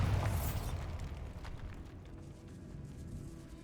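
A Bombarda blasting spell detonates in Hogwarts Legacy, a loud booming burst at the start that decays into a lingering rumble and crackle inside a decaying catacomb.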